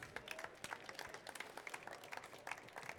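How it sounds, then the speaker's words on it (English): Audience applause for a young chef after a cooking demonstration at a live chef event, a dense patter of clapping hands lasting the full stretch at moderate distance, fairly quiet overall. "Okay, give them a big round of applause,"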